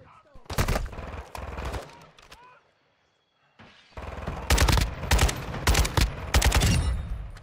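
Gunfire in Call of Duty DMZ: rapid automatic bursts, with a short pause in the middle, then more sustained fire, loud and close.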